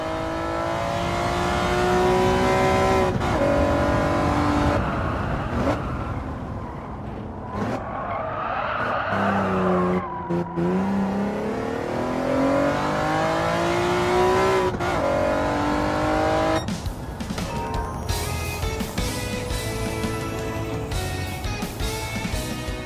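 Race car engines in the video game Gran Turismo 7, loud sustained revving that climbs and drops through gear shifts, with squealing tires and skidding in the middle, continuous and close with no talking.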